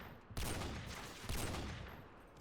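Sustained automatic fire in Modern Warfare 2, two loud dense bursts of overlapping shots close by, the second starting just after the first fades slightly.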